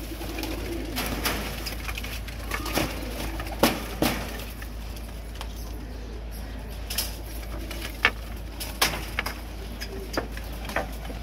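Soft cooing from flying pigeons repeats irregularly over a steady low hum, with occasional sharper clicks and faint rustles nearby.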